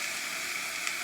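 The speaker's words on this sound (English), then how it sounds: "I am going to put them into this hot" Beef short ribs sizzle in a hot skillet on the stovetop, a soft, steady hissing fry heard up close for about a second with no voices.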